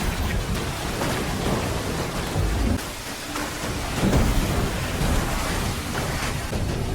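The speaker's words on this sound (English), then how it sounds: "Look, it's raining now" Steady, dense rain pours down throughout with a constant hiss, and a low rumble of thunder swells partway through.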